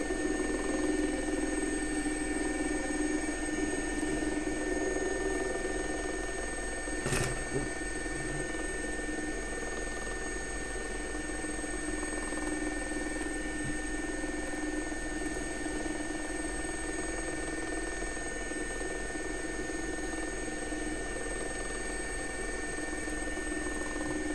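An SA-342 helicopter flies in the X-Plane 11 flight simulator, its turbine and rotor making a steady, loud droning whine throughout with one brief sharp click partway through.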